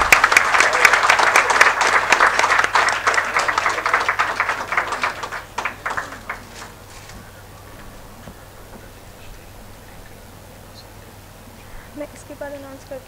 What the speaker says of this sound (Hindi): कृपया तालियां बजाएं।